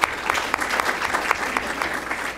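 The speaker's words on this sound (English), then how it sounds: "You can certainly clap." Applause from an audience at a community talk on crime in Chicago, a dense, steady patter of many hands that holds at an even level through the whole short stretch with no voices over it.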